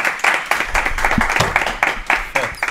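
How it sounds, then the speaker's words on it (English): Studio applause at the close of an interview with a UFC fighter, a modest group of hands clapping in uneven bursts with distinct individual claps, fairly close and lively throughout. "Applause, okay."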